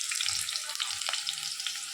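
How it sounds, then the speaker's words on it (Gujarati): Onion and capsicum roast in a mix of oil and ghee for a Punjabi sabji, giving a steady bright sizzle with a few soft stirring knocks, close and continuous, with no talking. "કેપ્સિકમને આપણે મસ્ત પહેલાં શેકી લઈએ"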